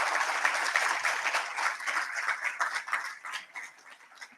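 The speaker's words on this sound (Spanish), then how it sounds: "Un aplauso para Francisco." An audience at a university training class in Argentina applauds for speaker Francisco, a dense burst of clapping that stays strong and gradually thins out toward the end over a few seconds.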